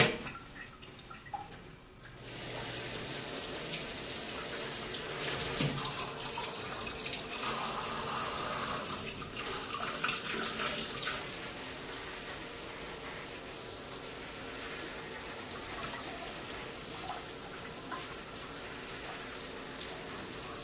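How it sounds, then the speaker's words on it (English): Water pours steadily while watering an aloe plant, a continuous close splashing and trickling wash that runs for about twenty seconds after a brief quiet start, alone with no talk. "Now I'm going to water this aloe."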